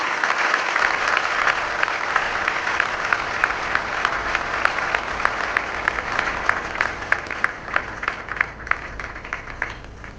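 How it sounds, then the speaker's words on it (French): Loud, sustained applause from an audience at a signing ceremony for a cooperation agreement between the DRC and South Africa, with dense clapping and sharper individual claps standing out for the full length. "Sous vos applaudissements, s'il vous plaît."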